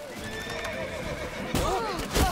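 A horse whinnies in The Witcher 3: Wild Hunt during a frantic ride toward a temple, with hoofbeats clopping underneath and a second louder neigh near the end, mixed with game noise and faint voices.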